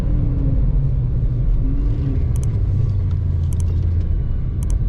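A stock-bottom-end Dodge 5.7 Hemi R/T rumbles loudly and steadily at a drag strip on an opening day of racing, a deep constant engine drone with no voices.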